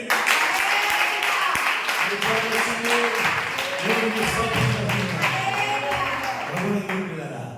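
A church congregation claps loudly and energetically in a dense, steady stream of hand claps that fills the whole stretch, with some voices and a few low thumps mixed under it.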